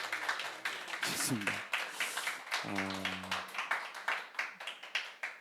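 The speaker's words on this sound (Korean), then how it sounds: "우리 저자분들 박수 한번 하면서 초청할까요?" Audience clapping welcomes the authors at a live book concert, a dense patter of claps running throughout while a host speaks over it.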